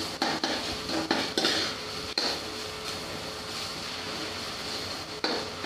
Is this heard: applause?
no